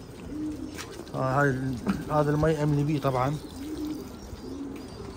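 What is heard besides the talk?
pigeons cooing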